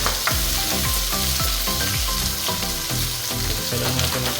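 Onion frying and being stirred in a pan while cooking pork ribs kaldereta, a dense continuous sizzle with rhythmic scraping strokes of the utensil, close and steady with no talking.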